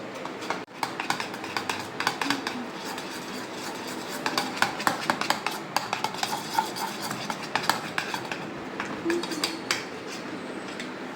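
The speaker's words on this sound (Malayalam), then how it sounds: "ഇത് മെൽറ്റ് ആവണ വരെ ഇളക്കണേ" A spoon stirs and scrapes prawn fry marinade in a pan until it melts, giving a fast run of metallic clinks and scrapes over a faint sizzle for the whole stretch, close and with no talking.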